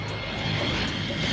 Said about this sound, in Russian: «Конкорд» — это самолет,